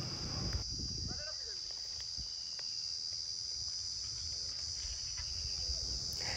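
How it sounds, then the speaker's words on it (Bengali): Crickets chirp in daytime at a green, lightly populated dam area near Udala, a dense continuous high-pitched trill running throughout, with a few bird calls and low rumbling noise beneath. "দিনের বেলাতে কত ঝিঝি পোকার ডাক শুনেছেন?"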